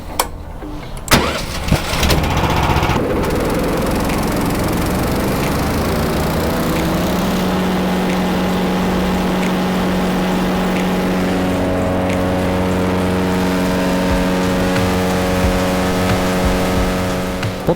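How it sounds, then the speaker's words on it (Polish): A Loncin engine on a wood chipper is pulled into life and settles into a loud, steady running drone with a strong rhythmic hum, close by and continuous, after a few initial pulls and a clatter. "odpalamy na 5 minut silnik"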